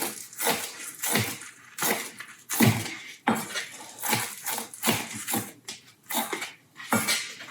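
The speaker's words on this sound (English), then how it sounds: "Take your parsley, chop that up." A knife chops fresh parsley on a cutting board in a steady, close series of rhythmic strikes, roughly one or two per second, with no talking over them.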